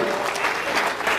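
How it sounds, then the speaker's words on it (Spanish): A wedding congregation in church claps briefly, a short burst of many hands at moderate loudness. "Ese aplauso fue a medias."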